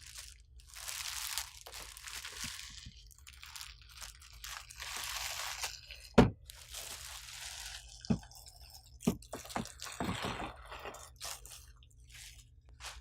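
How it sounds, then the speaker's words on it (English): Crinkling plastic bag as an HP ENVY 5540 printer slides out of it, with close, scattered rustles and a few sharp crunchy pops over a low steady hum, no voices. "Now we can slide the printer out of the plastic bag."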